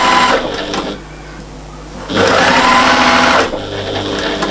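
A sewing machine top-stitching a patchwork and appliqué cushion, whirring loudly in two bursts with a quieter pause between, close by, with no talk.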